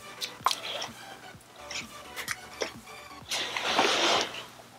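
Wet alginate poured and pressed by hand for a life cast, with soft drips, squishes and sticky slaps in an uneven rhythm, close up and moderately quiet, building to a longer wet smear near the end.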